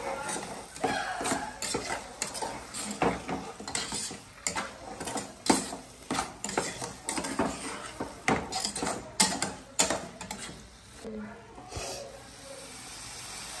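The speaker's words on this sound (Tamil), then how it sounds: "இதுக்கு பொரிச்சு வச்சிருக்கிற கத்திரிக்காயை போடுவோம்" Fried eggplant dropped into gravy in a pot and stirred for biryani, with repeated clanks of a metal spoon against the pot and a soft sizzle, and some talk in between.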